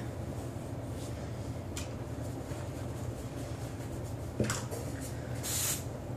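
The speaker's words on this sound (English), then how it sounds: "Teasing and spraying." A quiet, steady hiss of hairspray persists throughout, with a brief spray burst near the end and a faint click just before it.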